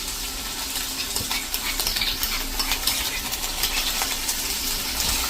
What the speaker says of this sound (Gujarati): અને આપણે જે આદુ લસણ અને મરચાંની પેસ્ટ કરી છે ને એ આપણે આ રીતે તેલમાં જ નાખી દેશું